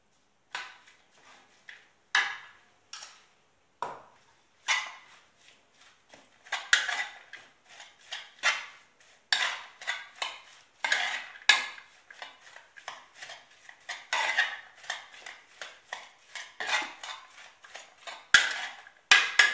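Chicken filling for briouates being mixed in a bowl, a steady run of close clinks and scrapes of utensil against dish in irregular bursts, alone without talk.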